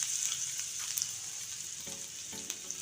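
Cumin, cardamom, cinnamon, bay leaf and grated ginger-garlic frying in a pan for cashew curry, a soft constant sizzle with occasional light stirring knocks, fairly quiet and without talk.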